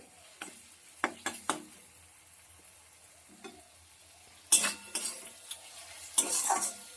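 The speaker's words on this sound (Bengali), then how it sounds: "যতক্ষণ তেল না ছাড়ছে ততক্ষণ কষাবো মিডিয়াম আছে ভালো করে সব কিছু কষিয়ে নেব" Onion and spice masala is stir-fried in oil for Bengali egg curry, a quiet sizzle under sharp scrapes and clinks of a spatula against the pan, coming in short bursts with a louder flurry of stirring near the end.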